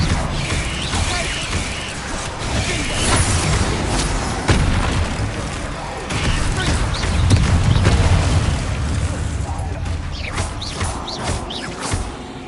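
Explosive spell blasts in Hogwarts Legacy, deep rumbling booms and crashing impacts layered with combat clutter, loud and sustained across the span, swelling and ebbing without a clear break.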